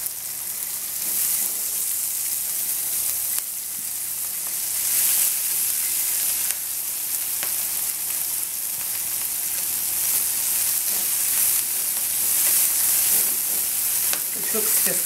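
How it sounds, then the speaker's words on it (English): Chilli, green chillies, kale and spring onion tops sizzle steadily in a hot oiled pan, with a continuous bright frying hiss and occasional scrapes and tosses, no talking. "goodies in there, plus the chilli, green chilies, and the kale. Just toss that a little bit."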